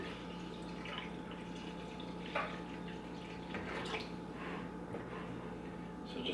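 Water poured steadily into a brewing container to top up a batch of homemade strawberry wine to one gallon, a continuous soft splashing and trickling with a few louder drips, close and fairly quiet.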